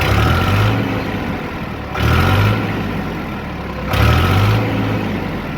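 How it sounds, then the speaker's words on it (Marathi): An Eicher 485 tractor's diesel engine runs steadily after starting, with a loud, close, chugging idle and two brief revs that swell the level, with no talk over it. "ट्रॅक्टर स्टार्ट केलं मित्रांनो. आता आपण याचा आवाज ऐकून घ्यायचा."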